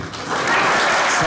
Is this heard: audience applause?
yes